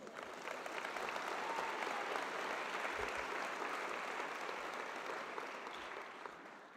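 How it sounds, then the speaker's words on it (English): An audience at the Cal Poly convocation gives sustained applause, a dense, even wash of clapping that holds steady for several seconds and then starts to taper off. "let's give them a big round of applause"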